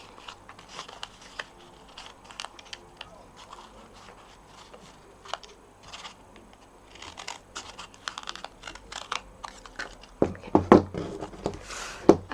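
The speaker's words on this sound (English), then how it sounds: "I'm going to take my big scissors, and I'm just going to trim along those 2 lines" Big scissors trim through two stacked cards in a series of crisp close snips and paper scrapes, getting denser and louder toward the end.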